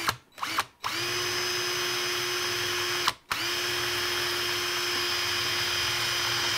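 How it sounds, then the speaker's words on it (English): A power drill bores out the steel locator pin in a motorcycle handlebar, whining loudly and steadily at close range, with a few brief stutters and one short stop near the start before running continuously. "I'm gonna go ahead and drill that locator pin in this right now"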